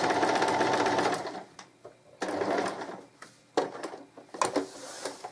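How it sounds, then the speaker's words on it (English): A sewing machine stitches through fabric in short bursts, running forward, pausing, reversing and going forward again, with brief clicks and handling noises between the runs. "stitch for a while, and foot down, needle down, reverse stitches, forward and off the end"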